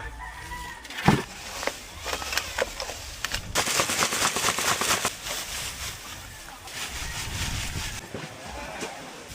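A chicken clucks and calls faintly amid noisy outdoor clatter and rustling, with scattered sharp knocks and a busy background.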